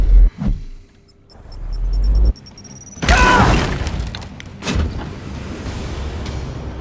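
A frag grenade detonates in the Warhammer 40K tactics game Chaos Gate: Daemonhunters, a sudden loud broadband blast with a shattering crunch, followed by debris and a second smaller burst, after a brief electronic whir.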